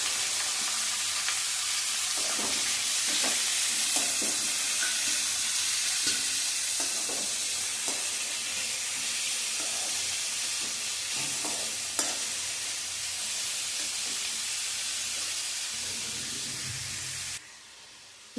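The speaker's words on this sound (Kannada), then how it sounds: "ಈರುಳ್ಳಿ ಈಗ ಫ್ರೈ ಆಗ್ತಾ ಇದೆ" Onion, ridge gourd, carrot and potato fry in a spiced oil tempering for upma, making a continuous close hissing sizzle with occasional stirring scrapes and clicks, ending abruptly near the close.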